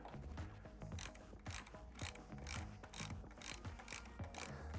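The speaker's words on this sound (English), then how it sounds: "Much easier to loosen riser bolts" A ratchet loosens the handlebar riser bolts on a Harley-Davidson motorcycle with quick bursts of close, rapid clicking, about eight short strokes in a row and no talking.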